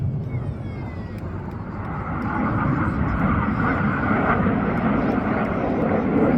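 A Red Arrows jet roars during a flying display at the Midlands Air Festival, a broad steady engine rush that grows slightly louder, heard from a distance under a commentator's voice.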